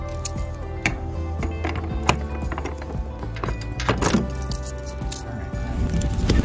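A key ring jangles and clicks while a 26-foot U-Haul moving truck is locked, producing light metallic rattles and a few sharper clanks over a low steady background rumble.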